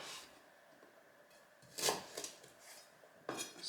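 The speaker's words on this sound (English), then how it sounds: "Once we have things prepared, we just cut it into little pieces." A knife cuts peeled ginger into small pieces on a board, a few soft, scattered chops and scraping taps that stay faint and quiet, with no speech.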